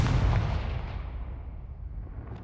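A Confringo blasting curse going off in Hogwarts Legacy, a single heavy boom at the start decaying into a rumbling tail, fairly loud with no talk.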